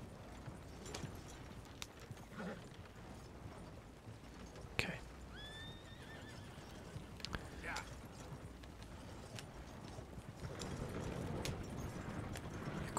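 Horse hooves clip-clopping in Red Dead Redemption 2, steady and soft over ambient game sound, with a brief high whinny-like sound midway; a faint voice talks at times.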